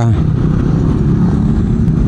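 Road traffic on the way to Mangaldan with cars and pedicabs, heard as a loud, close, steady engine rumble of passing vehicles filling the whole moment.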